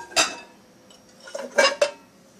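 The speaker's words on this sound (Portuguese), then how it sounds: "Vamos ver aquela panela, tirar a tampa dela daqui." A lid comes off a cooking pot inside an Electrolux stainless-steel dishwasher, giving several close metallic clanks and clinks spaced over a couple of seconds with quiet pauses between.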